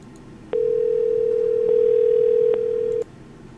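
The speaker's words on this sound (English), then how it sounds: "I'll dial up John while you're doing your Ashley thing" A steady telephone dial tone while calling someone, one continuous tone lasting about two and a half seconds, clear and fairly loud over a quiet room hum.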